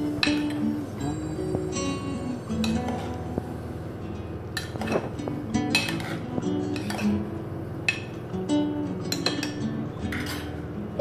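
Metal spoon scraping and clinking against a cooking pot while valor papdi beans, eggplant and potato are stirred together for a Kathiyawadi saak, with steady irregular clatter throughout and no talking.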